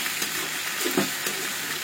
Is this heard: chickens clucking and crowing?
no